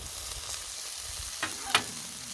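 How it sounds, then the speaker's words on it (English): Vegetables sizzle on a Blackstone griddle, a soft continuous frying hiss with a couple of brief scraping clicks of a utensil, close and fairly quiet. "I'm griddling."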